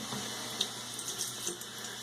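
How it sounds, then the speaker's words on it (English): Water trickles from a tap while being added to shaving soap lather, a soft steady running sound up close, with no talking. "I'm going to get a little more water in there."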